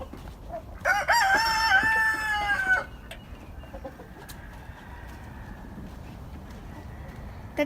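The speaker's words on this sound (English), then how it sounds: "There's a huge rooster." A large rooster crows once, loud and close, in a long drawn-out call on a Georgia farm, followed by quieter ambient farmyard noise.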